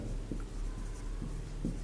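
A pen writes on paper, faint close scratchy strokes in a few short bursts against a quiet room background, with no speech.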